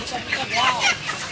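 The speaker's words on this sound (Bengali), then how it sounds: "এই তো মুরগি ধরতেছে" Chickens being caught and loaded onto a truck at a poultry loading site in Raninagar, Naogaon, cluck and squawk in short agitated bursts close by, with voices faintly in the background.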